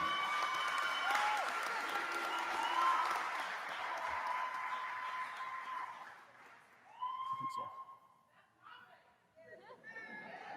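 Graduates receive applause at a 2021 commencement ceremony as a crowd claps steadily at a moderate distance; the clapping fades into scattered claps and murmuring voices.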